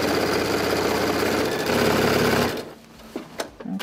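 Sewing machine stitching along the lining edge of a tote bag, a fast rapid rattling run for about two and a half seconds, then stopping, followed by a few small clicks and handling noises.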